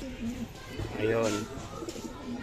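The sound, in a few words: pigeons cooing in a breeding loft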